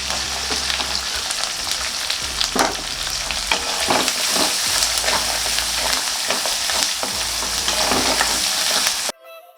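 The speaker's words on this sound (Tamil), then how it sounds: "நல்லா இந்த மாதிரி வெங்காயம் வதங்கினதுக்கப்புறம்" Chopped onions sizzle steadily in hot oil with curry leaves, with occasional scraping stirs, close and continuous, then the sound cuts off near the end.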